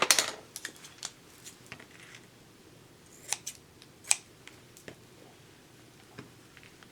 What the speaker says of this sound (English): all I did was just cut out some cheesecloth here